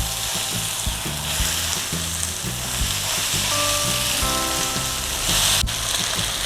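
Onions and green chillies sautéing in a pan for an egg roast, a steady close sizzle with stirring scrapes and a brief louder flare near the end, no voices.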